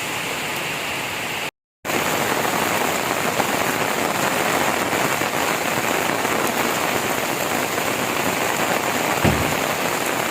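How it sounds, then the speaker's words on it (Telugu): Heavy rain pours steadily over a city, a dense and constant hiss that briefly cuts out near the start and then continues unbroken, with no voices. "నగరంలో కురిసిన భారీ వర్షానికి రోడ్లన్నీ జలమయమయ్యాయి"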